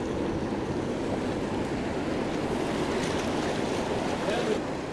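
Ocean surf rolls and breaks steadily against an inlet jetty, a continuous broadband wash of water with wind buffeting the microphone throughout.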